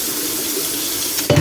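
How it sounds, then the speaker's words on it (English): Cold water runs steadily from a kitchen tap into a sink as a pot is drained, a constant rushing stream that swells louder and splashier near the end. "I like to turn on the cold water so that it runs down my pipe"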